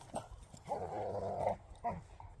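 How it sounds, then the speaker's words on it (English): Two Rhodesian Ridgeback dogs play fight close by, trading loud rumbling growls and short snarls in bursts, with brief gaps between scuffles. "Nobody play fights like a Ridgeback."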